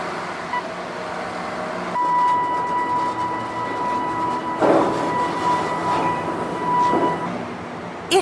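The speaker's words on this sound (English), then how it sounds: "The scrap bucket train will take it directly into the steelmaking mill." A remote-controlled scrap bucket train rolls through a steel mill with a steady rumble of wheels on rail, a sustained metallic squeal and a few clanks rising over the din.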